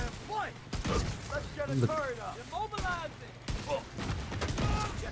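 Sharp, punchy pistol shots from The Division 2 crack in quick bursts, loud and close, while someone talks excitedly over them and a busy game mix rumbles underneath.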